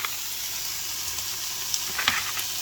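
Dried fish sprinkled into a hot pan for a Filipino dish with alogbati and camote tops, giving a steady loud sizzle and hiss throughout, with a few small crackles and pops.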